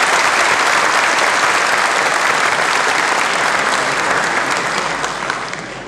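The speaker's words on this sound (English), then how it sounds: "I think we should give our brother a clap" Audience clapping at a religious debate on whether Jesus is God, a dense steady burst of applause filling the hall that gradually tapers off near the end, with no talk over it.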